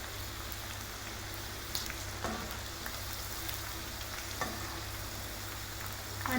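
Chicken 65 deep-frying in plenty of hot oil, a steady, fairly faint hiss and crackle with occasional sharper pops, continuous and without voices.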